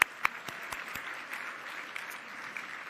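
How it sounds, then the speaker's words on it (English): Scattered, fairly quiet applause from a school event audience, a few distinct sharp claps at the start over a soft continuous patter of clapping. "Give yourself a round of applause."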